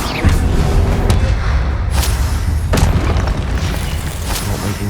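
Loud, repeated fiery blasts from the Confringo spell in Hogwarts Legacy boom over a dense rumbling background, with several sharp bursts spread across the few seconds.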